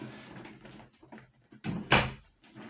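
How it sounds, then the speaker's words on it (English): An indoor door being pushed shut, heard as soft shuffling and handling noises followed by a short, fairly faint thump as it closes. "I'm just going to close the door."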